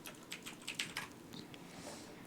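Quiet typing on a computer keyboard, a few scattered clusters of light key clicks with short pauses between them, close and soft.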